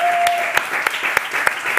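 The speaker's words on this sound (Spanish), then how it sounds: "Un aplauso para los hipocondríacos" A handful of people at a studio interview clap slowly and sparsely, a few distinct claps spaced evenly over a faint background murmur.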